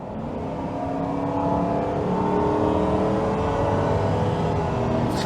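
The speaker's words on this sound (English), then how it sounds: "I'm going to slow down to about 55, the double nickel, and then accelerate." A 2001 Ford Crown Victoria accelerating from about 55 mph on a road, its engine note rising steadily and loud throughout, with strong low rumble and a climbing whir over roughly five seconds, no talking.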